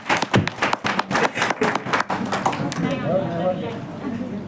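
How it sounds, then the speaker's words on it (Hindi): An audience at an Ahmedabad business seminar claps in a dense burst of applause that builds over the first couple of seconds, then thins into a softer, scattered patter. "आप सभी लोगों के लिए जोरदार ताली होनी चाहिए"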